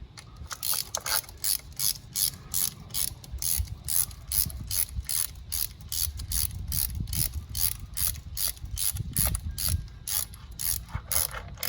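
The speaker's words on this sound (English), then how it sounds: "I'm using a ratchet that's small so I don't put too much torque on it" A small ratchet tightening valve cover bolts on a Toyota Camry, a rapid close-up clicking in repeated bursts that runs for most of the stretch, with a low mechanical rumble underneath.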